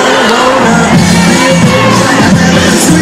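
A crowd at the Crufts dog show cheers and whoops loudly and continuously, with shouts and bangs mixed into a dense, close wall of noise.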